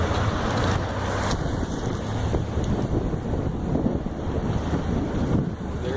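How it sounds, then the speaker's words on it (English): Gusting wind buffets a microphone outdoors at a car cruise event, a loud, continuous blustery roar with rough surges and no clear speech. "that wind is horrible. I'm not sure how much havoc it's playing with the microphone"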